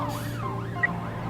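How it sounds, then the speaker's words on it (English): A police car siren from the police-management video game This is the Police, wailing up and down as the car drives off, steady and moderately loud, with no talking. "And you can see the little police car driving off."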